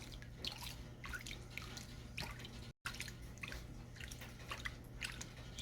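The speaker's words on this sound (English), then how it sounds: "that water comes up, cleans the riffles out" Water washes and drips through the riffles of a gold pocket claw pan in a faint, steady trickle of splashes and drips, with a very brief gap midway and no voices.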